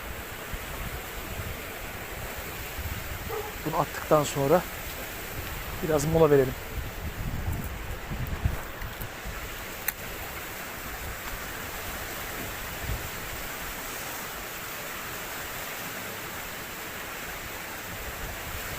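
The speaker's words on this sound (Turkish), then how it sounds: "Yağmur hızlandı." Steady rain hisses throughout, a dense even wash of noise, with a couple of short spoken Turkish phrases near the start, during a kasna fishing trip.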